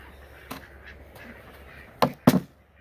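Two loud, harsh duck quacks close together near the end, after a single fainter quack early on, over quiet outdoor farm background on a cold day.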